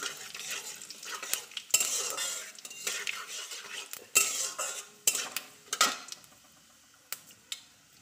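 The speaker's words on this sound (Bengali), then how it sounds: "5 ফোড়নটা আমি একটু ভেজে নিই।" Panch phoron spices with dried red chillies and bay leaves frying in a pan, with a utensil scraping and clinking against the metal in irregular strokes over a soft sizzle, close and fairly quiet.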